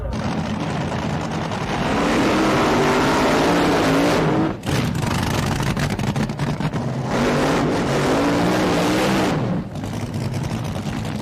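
A nitro-burning drag racing car does a burnout on a racetrack. Its engine gives a deafening, sustained roar that cuts out briefly twice before returning at full volume, close and dominating the scene.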